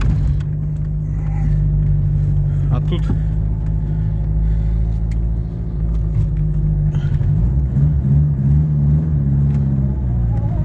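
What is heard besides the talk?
car engine running while driving on a muddy road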